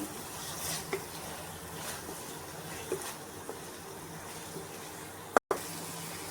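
Tomato, chilli powder and turmeric fry in a pan with a soft, steady sizzle, broken by a few light scrapes of stirring and a brief sharp knock near the end.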